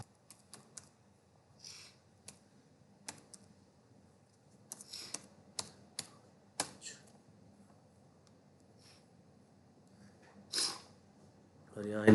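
Sparse clicks of a computer keyboard as a PAN number is entered for an online ITR-7 filing, with a few clustered keystrokes, faint room noise and a louder rustle near the end.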